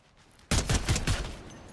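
A sudden burst of Fortnite gunfire hits after near-silence: a quick string of about four or five loud, close shots in rapid succession that then fade into a ringing tail.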